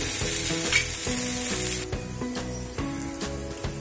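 A tomato omelette sizzles steadily in a hot pan, with a bright continuous frying hiss and soft repeated scraping or stirring strokes, close and moderately loud, no talking.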